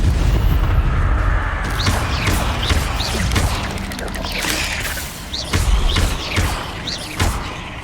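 Fire spell bursts in Hogwarts Legacy: several loud whooshing, booming casts at irregular intervals over a dense, rumbling game soundscape, with no talking.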